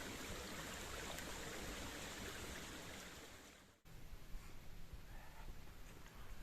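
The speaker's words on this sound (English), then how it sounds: "As Fowler crosses Trickle Creek, autumn leaves twist and turn in the waters beneath him." Continuous rushing and burbling of creek water, fairly soft, steady for several seconds before a brief dip and then resuming slightly thinner, with no voices.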